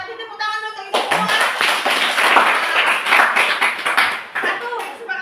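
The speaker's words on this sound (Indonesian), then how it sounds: "Tepuk tangan untuk itu semua." Schoolchildren in a classroom break into sustained group clapping after a brief voice, the dense, uneven patter of many small hands filling the room for several seconds.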